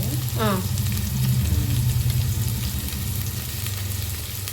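Green chillies and curry leaves fry in hot oil with a loud, continuous sizzle and crackle, close up, with a brief stirring scrape near the start.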